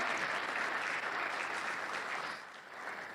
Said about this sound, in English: A round of applause as he takes a bow.